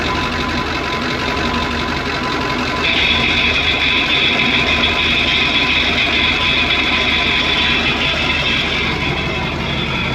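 The 1972 Brockway 358 truck engine runs at low, below-operating RPM with a loud, steady mechanical clatter and hum, a higher whine joining partway through and holding to the end.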